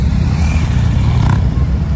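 A motorcycle engine drones close by during a motorcycle skills competition, a steady low rumble with a slight rise in pitch near the end.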